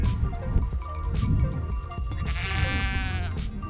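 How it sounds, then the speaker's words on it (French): Ewes bleat in open mountain pasture, several calls rising over a soft ambient background, one long wavering bleat standing out near the end, moderately close with no speech. "les brebis."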